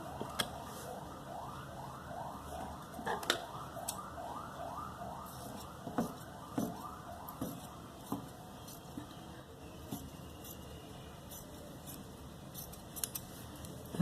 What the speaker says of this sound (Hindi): ये मैंने रफ कपड़ा लिया है, मैं इसकी 2 पट्टियाँ काट लेती हूँ।